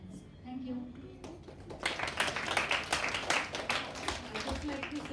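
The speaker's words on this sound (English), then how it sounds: "we can give a little more stronger clap for Niyati" Applause from a conference audience at a National Handloom Day event, starting after a quiet second and swelling into steady, dense clapping across the room, with a voice faintly audible beneath.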